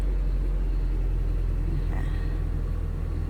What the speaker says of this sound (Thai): ฟอร์ดค่ะ สตาร์ทติดแล้ว จอดมันหลายเดือนเลย